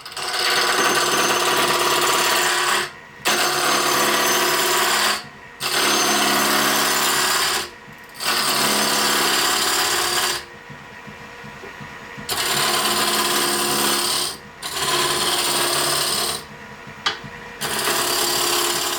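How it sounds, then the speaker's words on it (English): Loud, buzzing bandsaw whine cutting wood in bursts of a few seconds each, separated by short pauses, close and without talk. "I'm going to take it over to the bandsaw or maybe even the scroll saw."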